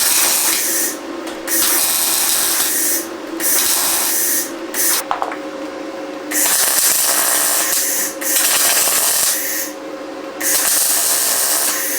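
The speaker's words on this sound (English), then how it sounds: "now it seems like it's welding really nice with the MIG, with the gas" A MIG welder with shielding gas lays weld beads, giving a loud, crackling, buzzing hiss in about five sustained bursts separated by short pauses.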